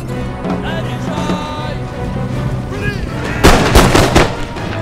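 Artillery volley in Empire: Total War, a sudden cluster of booming gunfire blasts bursting out near the end over steady battle noise and a voice talking.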